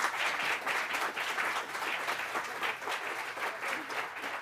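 Sustained applause from an audience at a tech policy keynote and awards ceremony, dense clapping heard throughout at moderate distance with no pauses.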